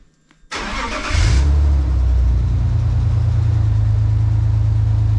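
A BMW E46 with the M54B30 inline-six and a split exhaust starts up: a short cranking burst after near silence, then the engine catches and settles into a loud, steady, deep idle heard close up, with no talking.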